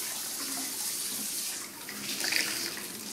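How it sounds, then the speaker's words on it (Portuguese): Warm water runs from a tap while a cat is being bathed, giving a steady, close, hissing gush that swells briefly near the end, with no talking. "Abre ali a coisa, a água quente."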